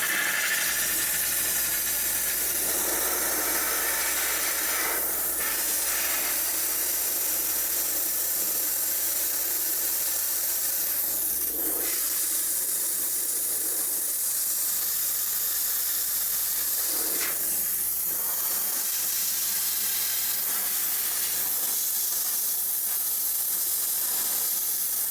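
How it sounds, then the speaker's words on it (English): A cheap Amazon steamer used for dental lab work hisses steadily and close, a continuous bright spray with periodic surges as it pumps, running alone for about twenty-five seconds. "I feel like this is more of a drier steam"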